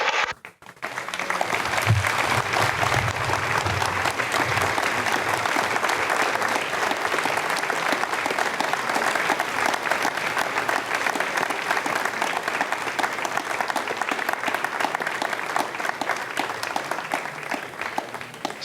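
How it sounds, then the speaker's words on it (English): Sustained applause from the launch control team in Jupiter fills the room after the GSAT-17 satellite separates from an Ariane 5 rocket, steady and dense from start to finish with a soft hum underneath. "you heard the applause from the people here in Jupiter"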